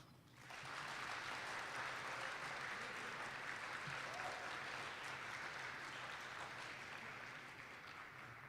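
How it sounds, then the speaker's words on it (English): Audience applause at a National Honor Society induction ceremony, a steady, even roar of many hands clapping in a large room, rising quickly at the start and holding before easing slightly toward the end. "Now you can applause."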